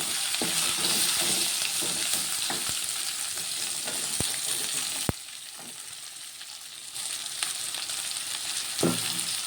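About a quarter kilo of cut capsicum fries in hot oil in a pan, a dense continuous sizzle with occasional sharp clicks of a utensil and a brief dip in intensity midway.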